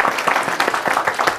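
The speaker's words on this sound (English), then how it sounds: "Give a round of applause to Sandhya" Applause from a small group at a software testing conference session in Bangalore, with individual claps standing out in a quick, uneven rhythm for a short burst.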